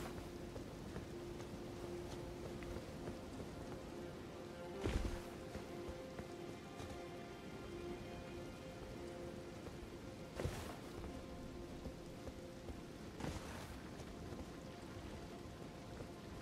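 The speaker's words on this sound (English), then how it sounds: "It's raining?" Steady rainfall in Elden Ring Shadow of the Erdtree, a constant soft hiss of rain on the ground, with a few brief louder bursts like distant thunder or splashes; no talk.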